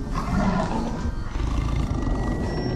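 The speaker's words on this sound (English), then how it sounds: "a 600-pound Siberian tiger on the loose." A 600-pound Siberian tiger on the loose gives a deep, rumbling roar that is loud and sustained, with rough growling texture throughout and no voices.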